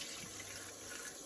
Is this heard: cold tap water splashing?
yes